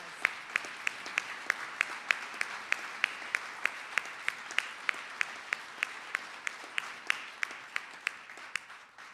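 Sparse, evenly spaced handclaps from a small group honouring the stone carvers of the Autobahn team at a Peoria time capsule ceremony, sharp and distinct, steady for about nine seconds with no talking.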